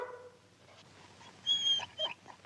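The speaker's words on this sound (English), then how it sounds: "Oh, goodbye, Shep. Be a good dog now." A dog whimpers in a 1954 Western film: a couple of short, high, thin whines rise out of a quiet background.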